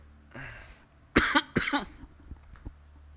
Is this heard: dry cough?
yes